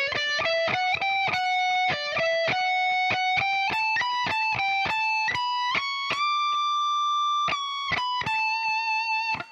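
A distorted electric guitar plays the outro slowly, picking a run of sustained single notes that step upward, some held longer near the end, with no talking.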